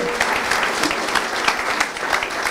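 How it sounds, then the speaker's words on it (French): Studio audience clapping loudly and warmly for a former pupil being honoured, dense sustained applause filling the room at an even level with a few sharper claps poking through, no voices over it. "On peut l'applaudir très très fort"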